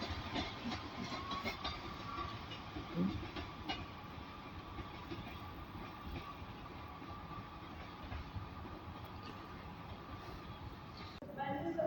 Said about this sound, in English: So arriving into Carlisle now, there's a Trans-Pennine Express service from Edinburgh to Manchester Airport.